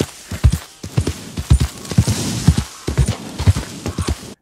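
Horse hooves clip-clop in a steady rhythmic gait outside of town near Saint Denis in a video game, close and clear, with no talking.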